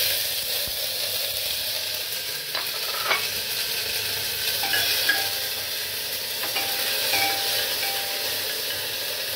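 Tomatoes, two dry red chillies and grated ginger sizzle steadily in a hot pan, a continuous bright frying hiss with a few soft stirring scrapes and clinks, close and alone.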